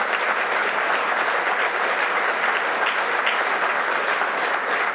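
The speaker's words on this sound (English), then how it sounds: "Give yourselves a round of applause," Dense, sustained applause from a large crowd at a political speech in Janesville, loud and even from start to finish with no breaks or voices rising above it.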